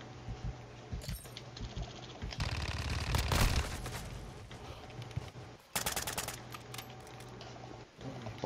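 Video game gunfire in bursts and single shots, fairly faint and mixed with a steady game soundscape and low hum, with sharper clusters of rapid pops near the middle and toward the end.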